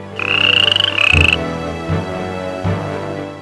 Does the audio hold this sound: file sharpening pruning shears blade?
no